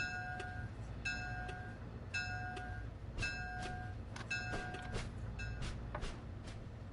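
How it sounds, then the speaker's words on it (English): Rhythmic clicks of a train passing over track joints in Train Sim World on the Northeast Corridor near New York, a repeating clatter over a steady rumble, with tonal ringing accents. "Lovely track joint sounds in this."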